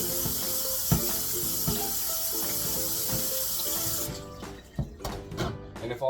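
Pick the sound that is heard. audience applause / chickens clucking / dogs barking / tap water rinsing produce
tap water rinsing produce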